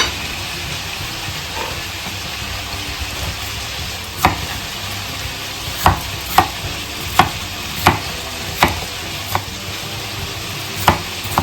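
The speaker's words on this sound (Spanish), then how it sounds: "Doramos un poco la cebolla." Onion browning with meat in a pan, a steady soft sizzle and frying hiss underneath, punctuated by regular clinks and scrapes of a utensil stirring, no voices.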